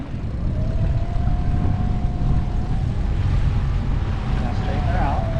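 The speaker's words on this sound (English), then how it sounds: "Keep the engine going." Outboard motor on a Mantus Marine dinghy drones steadily out on the water, mixed with wind buffeting, and a person talks over it.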